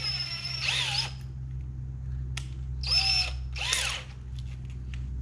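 A cordless drill on a weak battery whirs in three short, strained bursts while boring a hole, each spin-up sagging and labored, with a steady low hum running underneath.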